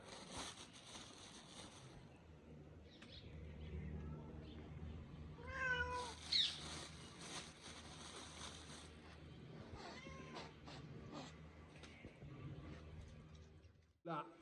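Cats waiting to be fed meow several times in the middle of the clip, close and clear, over a low steady background murmur.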